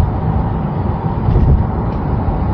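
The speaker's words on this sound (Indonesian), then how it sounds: "ini untuk suara kabinnya ya, kan ada jeglokan-jeglokan sedikit tuh, dengeran kan?" Cabin noise inside a CloudEV electric car driving over small bumps: a steady low road rumble fills the space, with a few soft thumps as the wheels cross the bumps, and no talk.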